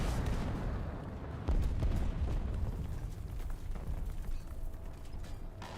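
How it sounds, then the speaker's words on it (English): Heavy rumbling blasts from falling bombs in the tank-combat game War Thunder, a dense low roar with a sharper impact near the start that then tails off into a sustained rumble. "I hear bombs."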